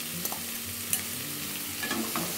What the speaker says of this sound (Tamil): சிக்கனை சேர்த்து நல்லா சிக்கன் வேகிற வரைக்கும் வதக்கி விட்டுக்கோங்க.